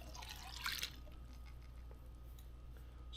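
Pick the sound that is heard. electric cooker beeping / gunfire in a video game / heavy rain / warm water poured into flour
warm water poured into flour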